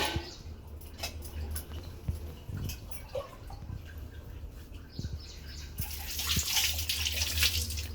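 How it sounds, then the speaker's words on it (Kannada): Raw mango rinsed under clean running water in a home kitchen, trickling and splashing close by with drips and handling knocks, the flow growing louder toward the end. "ಒಳ್ಳೆ ನೀರಲ್ಲಿ ಒಂದ್ಸಲ ತೊಳ್ಕೊಂತೀನಿ"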